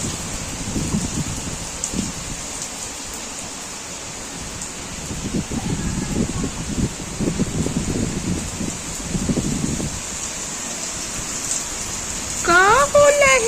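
Heavy evening rain pours steadily as a broad wash of noise, with louder surges of drumming on surfaces and a voice briefly speaking near the end.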